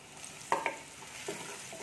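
Soft sizzling of ground chili, turmeric, coriander and salt frying in a pan with a few quick scraping stirs, close and quiet.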